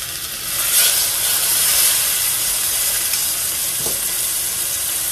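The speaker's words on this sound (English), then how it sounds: "We're gonna sear the edges all around really good." A roast sears in a hot pan, its edges browning all around, with a loud, continuous close-up sizzle and steamy hiss that swells briefly early on and then holds steady.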